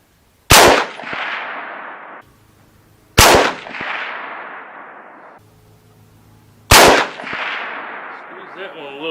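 .35 Whelen rifle fired at a 200-yard target: three loud, sharp shots spaced about three seconds apart, each followed by a long rolling echo that fades before the next.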